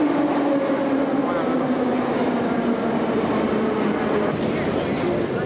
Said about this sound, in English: We're on the metro